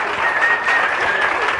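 A congregation applauds at an evangelical church gathering, a steady dense wash of many hands clapping that holds evenly throughout with no voices on top.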